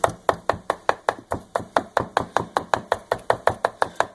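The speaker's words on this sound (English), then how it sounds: "So now I'm cutting up my red bell pepper, then I'll" A knife chops a red bell pepper rapidly on a cutting board, about twenty sharp, evenly spaced strikes in a quick steady rhythm, close and clear.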